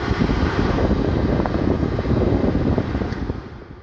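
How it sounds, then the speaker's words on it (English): A steady, broadband whoosh of air blowing from the air conditioning fan of a 2006 Ford Fiesta, constant and close, fading slightly toward the end. "Air conditioning, blows nice and cold, especially if you put it on recycled."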